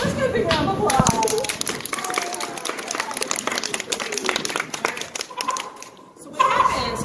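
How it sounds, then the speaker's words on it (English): Audience applause breaks out at a turkey demonstration on a fairground, a crowd of scattered hand claps and taps rising right away and running steadily, with voices calling out over it near the end. "Let's give a big round of applause"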